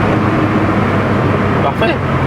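A VW Golf 1 GLI Karmann convertible accelerates, its engine rising as a loud, close roar and road rumble, with a brief voice heard over it near the end.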